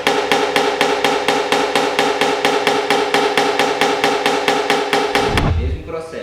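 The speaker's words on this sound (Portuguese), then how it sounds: "Eu vou direto com o martelo, ó." Rapid, evenly spaced hammer taps knock out a dent in a car body panel, about twenty close, bright metallic strikes in steady rhythm that stop abruptly near the end, followed by a low thud.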